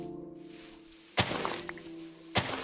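Minecraft VR played on a Quest 2 headset, with block-mining sounds: two sharp crunching thunks a little over a second apart over a quiet tonal game background, no talk.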